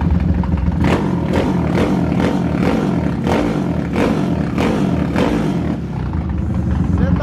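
A 371cc motorcycle engine on a dynamometer revs repeatedly in loud bursts, its rough, throaty roar rising and falling close by.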